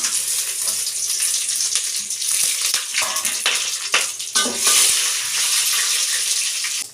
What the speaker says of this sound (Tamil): எண்ணெய் சூடாயிட்டு பட்டை வகையெல்லாம் சேர்த்துக்கலாம்